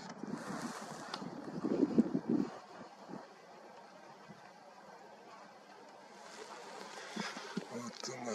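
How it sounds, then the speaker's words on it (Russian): Wind buffets the microphone outdoors at night under a full supermoon, making a steady rumbling roar that swells and eases, heaviest near the start. "Ветер, к сожалению, усиливается,"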